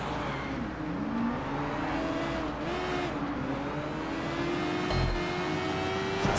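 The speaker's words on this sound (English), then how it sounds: "let's just keep the wheelie going" A motorcycle engine holds a steady drone with gently rising and falling pitch during a sustained wheelie in Sleeping Dogs, loud and continuous with no talking.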